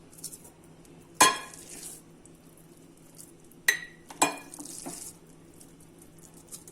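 A spoon stirs homemade pepper paste with oil, giving a few sharp metallic clinks against the pot and bowl, separated by soft scraping and quiet pauses.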